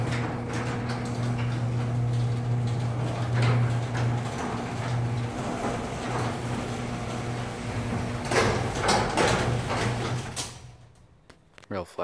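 Garage door opener running with a tightened chain, a steady low motor hum with rattling mechanical clicks that carries on for about ten seconds before stopping.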